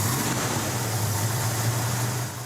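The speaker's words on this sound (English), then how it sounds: "Larry was setting the high idle on the carburetor." A carburetor engine idling on a restored car as the high idle is set, a loud, steady low rumble close by that eases slightly at the end.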